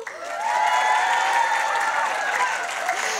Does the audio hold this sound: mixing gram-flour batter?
no